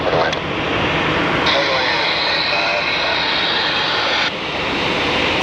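A Boeing 737 jet on final approach at Phoenix Sky Harbor airport gives a loud, continuous engine roar, with radio voices from the control tower heard over it.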